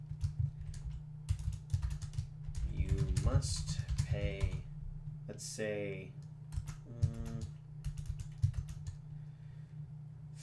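Fingers type on a computer keyboard in quick bursts of close, crisp clicks while someone talks over much of the typing.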